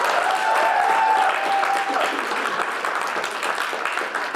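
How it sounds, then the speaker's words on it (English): Steady audience applause at the close of a two-hour poetry reading, a full even wash of clapping with a few cheers early on, easing gradually but continuing throughout. "Give yourselves an applause."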